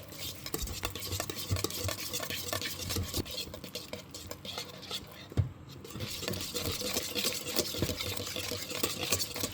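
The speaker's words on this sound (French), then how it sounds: "Puis je fouette pour le rendre bien lisse." Carrot cake batter is whisked by hand in a bowl, producing a quiet, continuous scraping and rapid patter of strokes with one brief louder knock near the middle.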